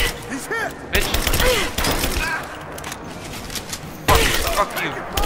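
Gunfire in Rise of the Tomb Raider: loud bursts of shots land near the start and again about four seconds in, amid clanking mechanical noise and thuds, with someone talking between the volleys.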